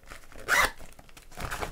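A waterproof zipper on an EXPED stuff bag gives one quick rasping zip at close range, followed by softer rustling and handling of the bag's material.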